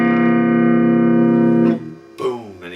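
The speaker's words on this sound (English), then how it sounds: "A lot of his songs he introduces with just a simple chord slide" An electric guitar rings out a sustained B7th-shaped blues chord, then slides into a new chord in an intro, bright and close, ending with a short sliding flourish.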